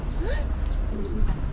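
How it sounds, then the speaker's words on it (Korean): Pigeons cooing at the Fukuoka castle ruins park in Japan, soft low warbling calls rising and falling among ambient park noise, fairly close and moderate in level. "비둘기 많다"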